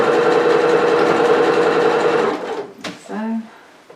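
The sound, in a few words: sewing machine sewing frills on a retro apron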